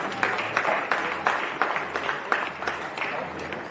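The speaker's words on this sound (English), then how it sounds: "I think the girls deserve a round of applause." Spectators applaud the under-15 girls' football teams after a country cup match, a steady wash of clapping with sharper individual claps popping out at a fairly even pace, and voices mixed in underneath.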